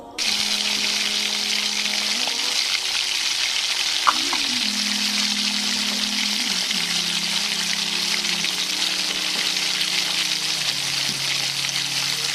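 Chopped onions, about a cup, sizzle steadily in hot oil for an Urdu-style tadka in a rajma lobia curry, a loud, continuous frying hiss with occasional stirring clinks, close and without speech.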